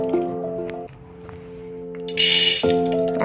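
Dry jowar (sorghum) grains tipped into a pressure cooker give a brief rattling pour, followed by a loud scattered rush of grains near the end, with a steady tonal hum underneath.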